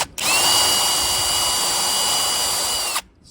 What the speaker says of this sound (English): I sort of angle the drill